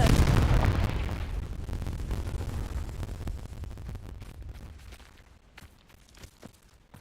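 A Confringo blasting spell explodes in a Harry Potter video game: a loud, close booming burst that rumbles and slowly decays over several seconds, trailing off into scattered crackles and small pops.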